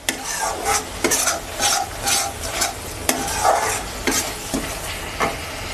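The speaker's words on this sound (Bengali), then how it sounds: "এবার ভালো করে নরম করে ভেজে নেব।" Chopped tomato and green chilli fry in oil for a spicy fish curry, with loud, close sizzling broken by rhythmic spatula scrapes about twice a second.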